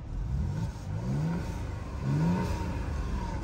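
A Mercedes E400 coupe's twin-turbo V6 idles with a deep, throaty hum and rises in two short revs, heard from close by with no talking.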